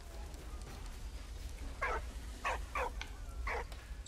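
A dog barks in short bursts in the World War I video game Valiant Hearts: The Great War, four or so separate yaps spaced over a couple of seconds against a low steady background hum.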